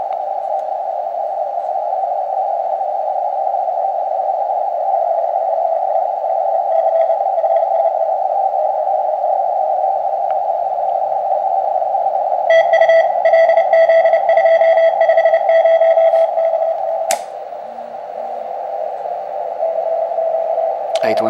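A Morse code CW signal on an Elecraft KX2 radio with noise reduction switched on, heard as a steady, loud mid-pitched tone running almost unbroken over a faint background, with brief clicks near the end.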